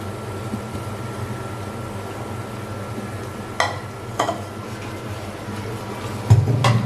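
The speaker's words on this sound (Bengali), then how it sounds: "কেমন হচ্ছে দেখেন, ফটফট ফটফট করে ফুটছে" Spices tempering in hot oil for kochu shak crackle and pop in a few distinct bursts over a low, steady sizzle, close and moderately loud.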